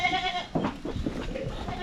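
A goat on a farm bleats several times in quick wavering cries, loud and close, with some background farm noise and no talking.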